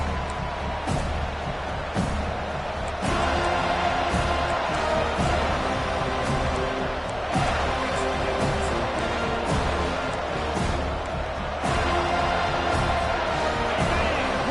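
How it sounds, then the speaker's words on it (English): Stadium crowd at a Florida State football game keeps up a broad, continuous roar and cheer, with tonal swells suggesting a band or horns somewhere in the mix, steady and fairly loud throughout. "Listen to the crowd energy here in the early going."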